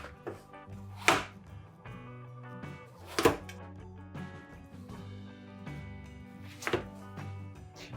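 A knife chops tomato finely on a board, a few sharp distinct thunks spaced out over several seconds with quieter cutting and scraping between them, close and alone.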